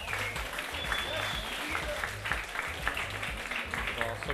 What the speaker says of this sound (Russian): бойцы очень просят, чтобы их поддержали аплодисментами